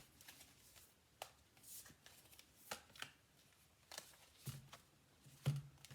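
Heart and Soul oracle cards are shuffled by hand, soft riffling flicks and slaps repeating irregularly, quiet and close with no talking.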